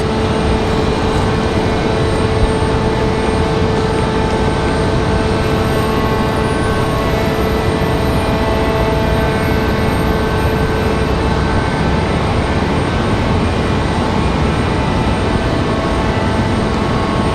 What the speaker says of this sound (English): Southwest departure that we heard back there, Southwest 3826 headed to MCO.